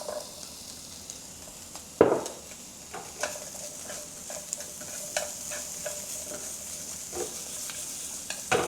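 Ginger, garlic and onion slices stir-frying over low heat in a pan, with a soft steady sizzle, a spatula scraping and a few sharp clinks against the pan.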